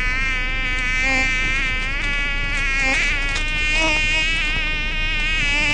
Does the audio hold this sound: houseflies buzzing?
yes